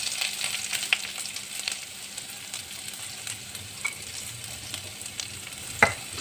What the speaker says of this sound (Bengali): তারপরে আবার একটু নাড়াচাড়া করে নেব। যাতে ভালোভাবে আলুর সঙ্গে হলুদ গুঁড়ো এবং লবণটা মিশে যায়।